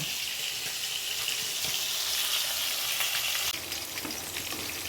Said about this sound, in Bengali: এখানে মাছ ভাজাটা করছি দেখো আর এখানটা শুক্তো পেঁপে ভাজছি